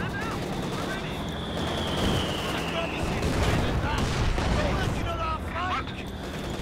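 Continuous battlefield gunfire and explosions from the Company of Heroes 2 strategy game, with tank shots striking a Panzer IV amid dense shooting and a voice talking over it.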